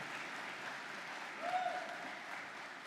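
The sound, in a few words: audience round of applause for faculty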